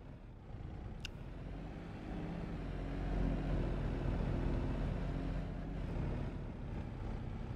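In Farming Simulator 22, a vehicle drags an old abandoned barn-find car that was pulled free with a winch. A steady, fairly quiet engine rumble with low droning tones runs throughout, with no talking.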